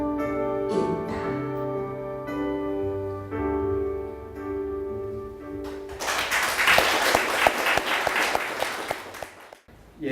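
After a sustained musical passage, an audience at a literary event applauds two poetry reciters, a warm burst of many hands clapping that swells then fades out.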